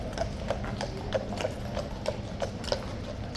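A very large cavalry horse in a military mounted ceremony walks on hard ground, its hooves clip-clopping in a steady, evenly spaced rhythm of about eight sharp knocks over a low background rumble.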